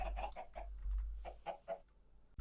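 Chickens cluck in Minecraft in short bursts, a few soft calls close together, then a brief pause and several more, fairly quiet over a low steady hum.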